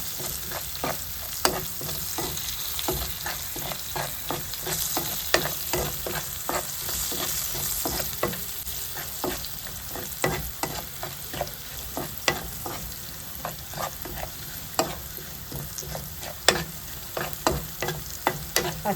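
Spices with turmeric, fenugreek powder and salt fry in oil in a pan for prawn and irumbanpuli pickle, a continuous sizzle broken by frequent rhythmic spatula scrapes and clacks, close by and with no talking.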